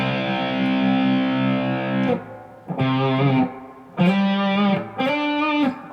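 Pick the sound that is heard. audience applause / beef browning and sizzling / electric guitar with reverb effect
electric guitar with reverb effect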